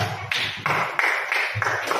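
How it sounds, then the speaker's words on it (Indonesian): A group of teachers claps hands in a classroom, quick rhythmic bursts of clapping in a short patterned sequence, close and fairly loud, with no talk. "Tepuk tangan dulu"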